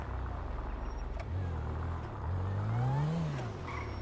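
A car engine in GTA 5 revs and accelerates as the vehicle pulls out, pitch rising and falling in steady sweeps, close and fairly loud with no talking.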